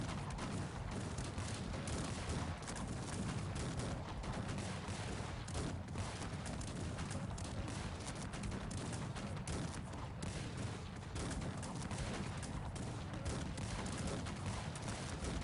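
Massed musketeer gunfire in a Cossacks 3 battle, a dense continuous crackle of overlapping shots with dull booms, steady and loud throughout.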